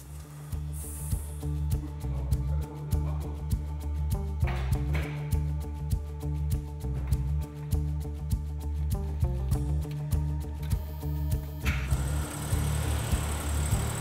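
AC Cobra sports car engine running steadily at close range, a deep rumble with a regular pulsing beat that holds for the whole stretch with no talk over it.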